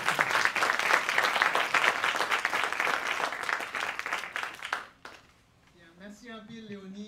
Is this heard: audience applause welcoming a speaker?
yes